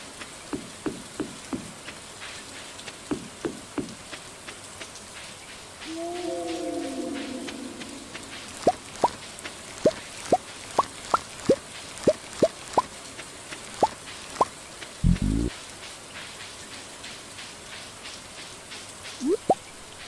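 Rain in the farming game Stardew Valley, a soft steady patter under a regular series of sharp plopping drops, with some faint tonal game sounds mixed in and a louder thump near the end.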